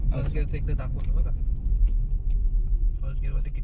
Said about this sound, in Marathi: फर्स्ट गिअरवरती किती पुल होत आहे.